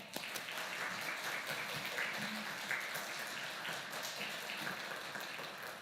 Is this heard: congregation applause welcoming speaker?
yes